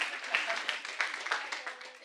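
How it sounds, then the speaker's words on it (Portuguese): Brief applause from a small corporate workshop audience on anxiety, uneven scattered claps over about two seconds, fairly faint and thin, with a voice or two mixed in. "Palmas para elas."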